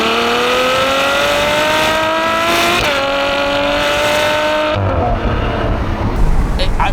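A 740 bhp Ferrari F12 V12 accelerating hard, its engine note climbing through the gears with brief dips at shifts, loud and close from inside the car, with a man exclaiming over it.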